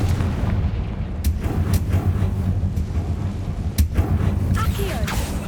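Confringo blasting spell explosion in the video game Hogwarts Legacy, heard as sharp bursts and booms over a dense, rumbling game soundscape, with a couple of distinct cracks and a trailing whoosh near the end.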